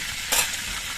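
Whole garam masala drops into hot oil left in a kadai after frying potol, a steady close sizzle that swells into a brief louder hiss as the spices hit.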